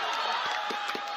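Broad, continuous crowd noise fills a stadium at a North East Games athletics relay in Nagaland, with scattered claps and cheers poking through the steady roar.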